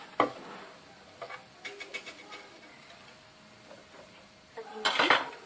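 Utensils clink and scrape against a bowl while a mixture is stirred, sounding as scattered light taps and clatters with a louder burst of clinking at the end, close by and without speech.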